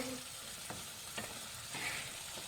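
Ginger and green chili frying in a pan for a sweet-and-sour galgal pickle: a soft, steady sizzle with several clinks and scrapes of a spoon stirring, fairly quiet and without talk.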